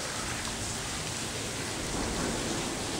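Steady rain falls at the Brunswick, Maryland commuter train station, an even wash of hiss and patter with no talk.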